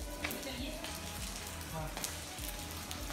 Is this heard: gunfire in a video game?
no